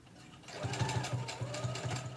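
A sewing machine stitching a dress, a close, rapid rhythmic chugging of the needle starting up and running steadily for a couple of seconds, no talk.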